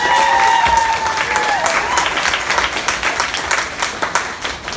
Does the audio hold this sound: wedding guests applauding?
yes